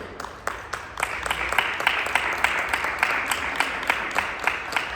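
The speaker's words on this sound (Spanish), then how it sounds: "Recibamos con un fuerte aplauso a Mario." An audience at a university panel discussion on China applauds a speaker's introduction, a full, sustained round of clapping with sharp individual claps standing out near the microphone.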